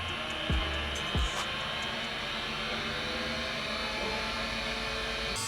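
A wood lathe spins a turned pen at about 3,000 RPM for beeswax finishing, giving a steady, loud whirring drone throughout, with two brief knocks near the start.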